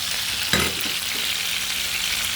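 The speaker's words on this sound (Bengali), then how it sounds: "এখানে আমি আলু ভেজে নিচ্ছি, বেগুনও হালকা করে ভেজে নিচ্ছি।" Potato and eggplant pieces fry in hot oil in a pan, giving a continuous close hiss and crackle with a brief louder sputter near the start, while no one speaks.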